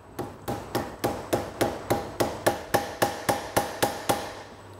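A mallet strikes an Allen wrench to seat an expansion plug while a Faco flyscreen is fitted to a Piaggio Liberty scooter. About fourteen sharp, evenly spaced metallic taps ring out close and alone, each one fading quickly.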